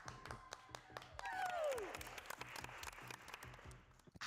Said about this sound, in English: round of applause, because everybody's kick game is valid